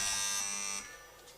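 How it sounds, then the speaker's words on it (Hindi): A quiz buzzer at a team quiz competition at the Arts Council in Karachi gives a loud, sustained electronic buzz that cuts off sharply after under a second, leaving faint hall noise. "पहले बजर किसने दबाया था?"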